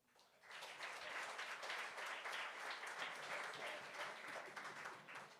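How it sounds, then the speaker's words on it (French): A comedy Gong Show audience breaks into applause, the clapping swelling in after a quiet start and then holding as a dense, fairly faint wash of many hands. "Une main d'applaudissement, tout le monde."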